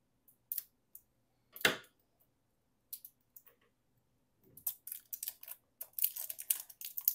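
Plastic wrap peeled off a small toy egg makes scattered crinkles and sharp crackles, sparse at first and then denser bursts of rustling toward the end.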